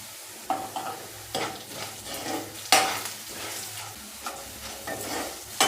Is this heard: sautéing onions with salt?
yes